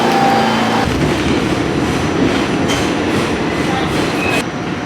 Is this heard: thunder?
no